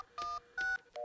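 Telephone keypad dialing in a cartoon, three distinct touch-tone beeps of about a fifth of a second each, evenly spaced, clear and close with no talk over them.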